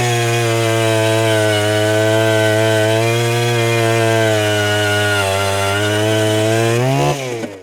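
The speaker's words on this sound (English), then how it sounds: "I'm going to drill 2 sets of 16 holes" A motorized ice auger drilling holes through first ice for fishing roars steadily at high revs, close and loud, before slowing and cutting out at the end.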